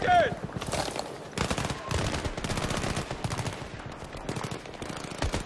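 Sustained gunfire from Battlefield 3 during a campaign firefight, with dense bursts of automatic shots rattling continuously throughout, loud and close, mixed with other battle noise and faint voices.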